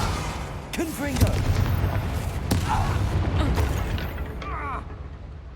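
A Confringo fire spell cast in Hogwarts Legacy, with booming, mechanical bursts and sharp impacts under in-game voices and background activity.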